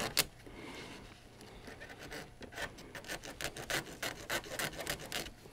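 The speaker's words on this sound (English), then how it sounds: "we'll just file it and make the ends as neat as we can and just kind of go from there." A small file rasps back and forth across the cut rail ends of HO scale model flex track to clear the burrs. The strokes are close, quiet and rhythmic and grow more regular toward the end, with no voices.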